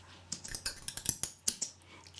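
Scissors snipping through paper, a quick series of sharp, crisp cuts close by with short pauses between, quiet and alone.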